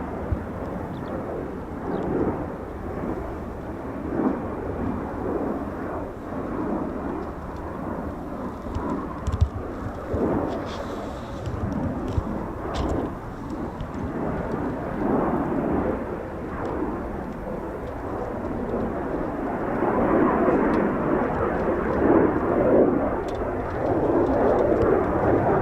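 A Eurofighter Typhoon FGR4 flies in the evening sky at RAF Coningsby, a deep, rumbling jet roar that surges and fades unevenly, growing louder and fuller toward the end.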